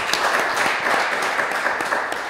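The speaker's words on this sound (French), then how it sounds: "on peut l'applaudir également" A studio audience at a Lubumbashi quiz contest breaks into brisk, dense applause, many hands clapping steadily and close for a couple of seconds.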